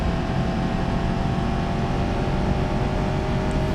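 An automatic car engine drones steadily in the BeamNG driving game while the car is pushed hard on a track, holding a continuous revving tone with no voices.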